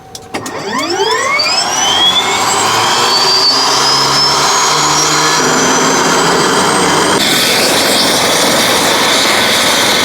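Turbine engine of an air ambulance helicopter at a HEMS base spooling up from start, a rising whine climbing in pitch over the first seconds and settling into a loud, steady roar with broadband rush, no talking.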